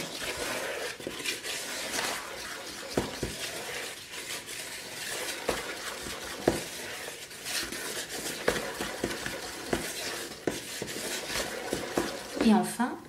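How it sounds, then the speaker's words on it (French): Madeleine batter of whipped eggs and sugar, flour, baking powder and melted butter whisked in a bowl, with a steady scraping and tapping rhythm running throughout and a few sharper knocks against the bowl. "Et mélangez jusqu'à l'obtention d'une pâte bien homogène."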